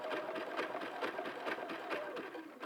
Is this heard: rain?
no